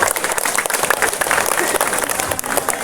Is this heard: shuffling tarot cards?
no